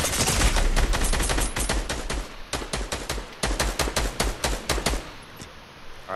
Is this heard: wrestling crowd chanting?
no